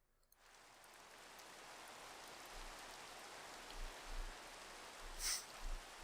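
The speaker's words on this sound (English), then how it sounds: "And now it's gonna frickin' rain, which is gonna shut my solars down." Rain starts suddenly in the Minecraft modpack Age of Engineering, a soft, steady hiss of rainfall that swells slightly, with a few faint low rumbles underneath and no talk.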